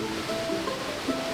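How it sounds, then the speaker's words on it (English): A steady wash of falling water from a waterfall in a forest park in Puerto Rico, a constant broadband rush heard alone for a brief moment. "This is the first waterfall you'll come across in this park."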